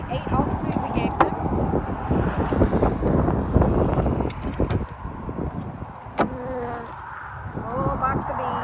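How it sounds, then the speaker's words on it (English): Golden Cordovan honey bees swarm around an open hive box that has a white feeder box on top, making a dense and steady loud buzz with wind rumbling against the microphone. "Full box of bees."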